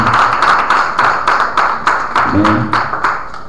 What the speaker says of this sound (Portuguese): Dê uma salva de palmas